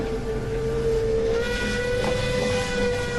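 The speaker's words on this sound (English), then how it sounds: "The engine whistled again" A steam locomotive whistle sounds a long, steady tone over a hissing, rumbling background of the engine.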